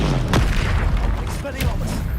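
An Expelliarmus spell cast in the video game Hogwarts Legacy lands as a deep booming burst with whooshing sweeps, set against a dense, continuous layer of game sound.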